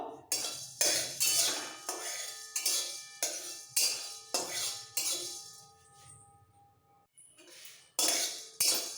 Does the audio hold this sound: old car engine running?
no